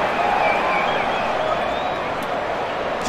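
Stadium crowd at a rugby match between the Bulls and the British & Irish Lions roaring steadily in a sustained, dense wash of cheering that holds at an even level throughout a running play.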